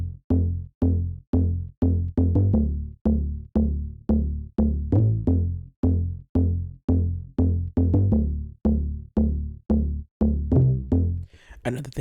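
A punchy melodic tech house bass preset from the Vital synth, layered with a square-wave sub, pulses in a steady rhythmic pattern of short, plucky repeated notes, loud and close, with no voices.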